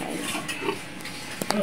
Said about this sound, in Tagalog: dito tayo sa aming buntis na baboy